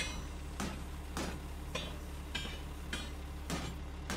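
Repeated metallic hammer strikes from a video game character making repairs, about six evenly spaced blows roughly every half second over a steady low droning background.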